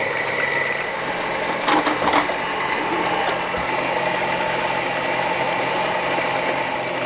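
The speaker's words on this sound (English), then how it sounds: "we're going to mix that till it gets to a peak" An electric mixer whipping cold cream toward peaks for a key lime cheesecake, a loud continuous whirring drone throughout with a few brief clatters early on.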